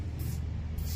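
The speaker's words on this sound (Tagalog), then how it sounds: "i-spray lang natin pero sinasalo pa rin ang palad natin para wag siyang malunod" Water misted from a spray bottle onto a freshly replanted plant, held in a cupped palm, giving a short close hiss of spray over a low background rumble.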